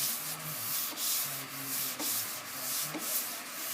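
Hand sanding of epoxy primer filler on a car deck lid, using a long Curvecaster sanding board with 220 grit paper; steady rhythmic back-and-forth rasping strokes, close and continuous, with no talking.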